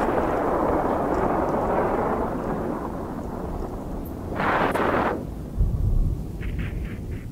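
A bomb going off in the space game EVE Online: a long, heavy rumbling roar that swells, then a sharp hissing blast, a deep low thump, and a few faint pulsing tones as it fades.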